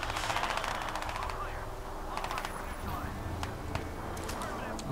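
Enemy machine gun fire in the shooter game Crysis 2 rattles in quick bursts of rapid shots at moderate distance, mixed with game effects and a voice talking over it.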